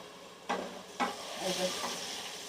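Potatoes frying in a pan with salt and turmeric, a soft steady sizzle with two distinct spoon scrapes and stirring noises over it.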